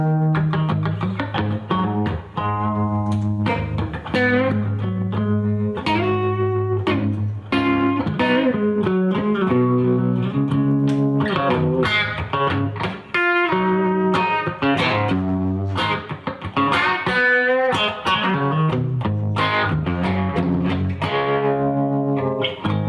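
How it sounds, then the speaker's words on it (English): Electric guitar chords and melody through a Fender Tonemaster FR-12 amp ring out with a pulsing, wavering tremolo, loud and continuous, with a drenched, distorted tone. "Let's do that in tremolo."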